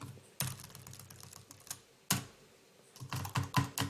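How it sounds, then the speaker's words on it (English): Typing on a computer keyboard, close and fairly quiet, with scattered individual key clicks followed by a quicker burst of several keystrokes near the end. "John Doe, put in whatever URL for your web page here, in between the two inverted commas"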